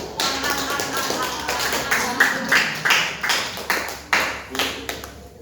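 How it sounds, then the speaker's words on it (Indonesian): Seventh-grade students in a classroom give a short round of applause for a presenting group. Fairly quiet, uneven claps and taps repeat over a few seconds against a soft room murmur. "Tepuk tangan buat kelompok 4"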